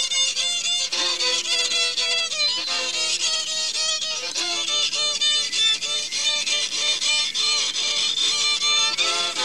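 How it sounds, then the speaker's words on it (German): A fiddle plays a lively melody in an animated children's story about a bee, bright bowed notes running continuously and loud throughout, with no talking. "Fiedelt da jemand?"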